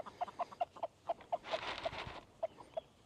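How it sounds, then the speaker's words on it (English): Farm chickens cluck in a quick series of short, evenly spaced notes, close by and fairly soft, with a brief burst of rustling noise in the middle. "Chickens."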